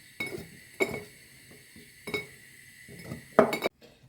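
Zucchini pieces drop into glass jars in a series of light clinks and taps, about six separate hits spaced unevenly, quiet and close, with no talking.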